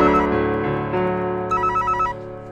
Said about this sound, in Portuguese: Para aí, o telefone tá tocando, só um instantinho aí.